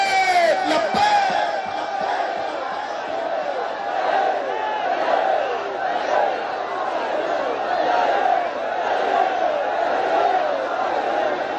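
A large crowd at a religious gathering in a madrasa chants a slogan in loud, rhythmic waves, voices swelling and repeating across the whole stretch, with an amplified voice leading.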